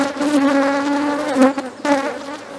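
Honeybees swarm and buzz around a hive being split into two new colonies, a dense, steady drone of many wings close by, with pitch wavering as bees circle and no speech over it.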